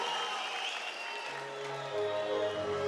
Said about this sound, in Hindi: वीरांगनाओं के लिए जोरदार तालियां